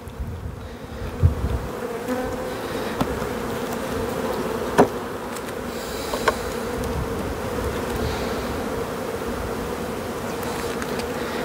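Honeybees buzzing around an opened beehive on the coast during a spring hive inspection, a steady close swarm drone alone throughout, with a few faint knocks of handling the hive.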